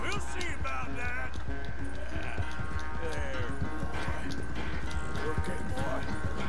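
Horse hooves clip-clop at a steady gallop in Red Dead Redemption 2, close and continuous beneath game music and someone talking throughout.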